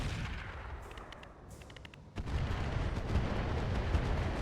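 Artillery fire in the mech combat game RogueTech (BattleTech) rolls out as a heavy, sustained rumbling barrage that fades and then swells again loud and close, with no voices over it.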